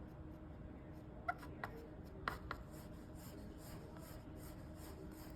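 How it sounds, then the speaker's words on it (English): A wooden smoothing tool glides across the clay of a handmade ceramic mug, braced from inside: faint, soft rubbing and scraping with a few light ticks and clicks in a quiet room. "I'm going to take my wooden smoothing tool and I'm going to support it on the inside as I zip the clay across."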